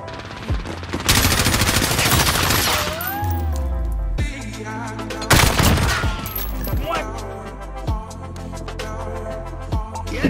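Rapid bursts of M4A1 rifle fire in the video game Modern Warfare (Search and Destroy mode), loud and close, with sharp volleys around the middle and scattered single cracks afterward.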